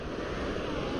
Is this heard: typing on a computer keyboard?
no